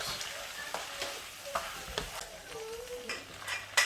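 Olive and mint chicken being stirred in a hot pan, a soft close sizzle with repeated scraping strokes of a spoon and a few light clicks, fairly quiet overall.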